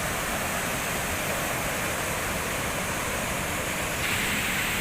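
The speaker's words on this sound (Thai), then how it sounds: "อันนี้ก็น้ำตกใกล้ๆแขวงอัตตปือ" Waterfall near Attapeu Province in Laos, a steady, loud roar of rushing water that fills the whole clip without breaks, no voices.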